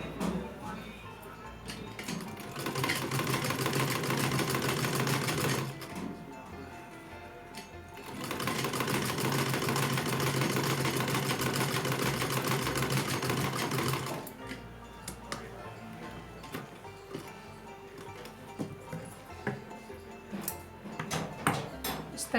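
A sewing machine stitches a small dress for a Laddu Gopal idol. It runs in two long, steady whirring bursts close by, then gives way to lighter handling clicks and taps.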